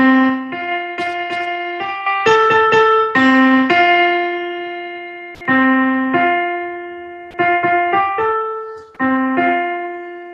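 Clean, bright tones, likely piano or keyboard, sound a musical fourth as two notes in turn, repeated in several short phrases with clear decaying attacks and no voices.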